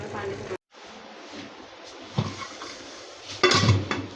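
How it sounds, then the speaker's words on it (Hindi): A spoon mashes khichdi in a cooking pot, giving a few scattered scraping knocks and clanks of metal against metal at close range, with quiet pauses between them. "हाँ घोटा लगेगा ना अभी थोड़ा सा"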